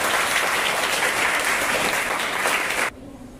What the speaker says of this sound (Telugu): వెరీ గుడ్, క్లాప్ కొట్టండి.